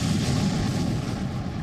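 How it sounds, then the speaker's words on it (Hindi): A heavy explosion from a Russian tank in war footage, a loud rumbling boom that roars steadily through the short stretch with no clear start or end. "तभी टैंक में अचानक भीषण धमाका होता है"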